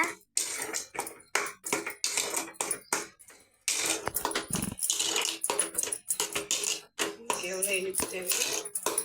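Sugar is stirred into a sweet in a pan, with a rapid, rhythmic series of metal spoon scrapes and clinks against the pan, loud and close, pausing only briefly.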